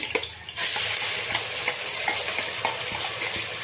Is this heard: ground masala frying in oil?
yes